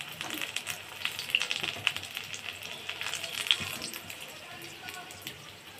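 Puris sizzle and crackle in hot oil, a continuous bubbling hiss with scattered sharp pops, moderately near, as a batch fries in a home kitchen.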